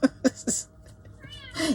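A house cat meows at a studio door, several short separate calls near and clear, the last one rising and drawn out, with no talk over them.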